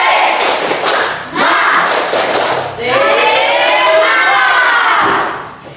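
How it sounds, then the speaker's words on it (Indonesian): A classroom of students performs a rhythmic spirit clap, loud patterned clapping with shouted voices in unison, then a longer burst of cheering and chanting that fades at the end. "Untuk memompa semangat kita coba tepuk semangat."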